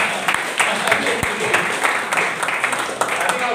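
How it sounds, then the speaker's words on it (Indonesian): A group claps in applause during a rehearsal or filming session, steady mid-level clapping throughout with a few sharper individual claps standing out. "tepuk tangan dulu buat mereka."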